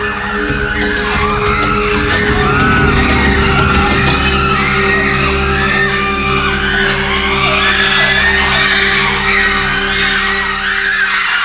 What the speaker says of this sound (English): Females scream with excitement.